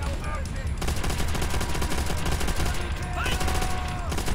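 Sustained rapid machine gun fire from an MG42 in Call of Duty: World at War, a dense continuous rattle running loud and close throughout, with brief voice bits in the mix.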